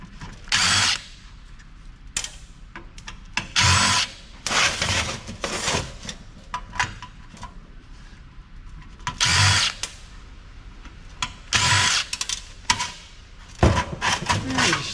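A power screwdriver takes screws out of an old Compaq PC being scrapped, giving repeated short whirring bursts separated by brief pauses and light handling noises.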